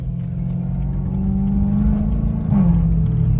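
A BMW M3 on a first drive, its engine a steady low rumble from inside the car that swells as it accelerates near the end, with no talking.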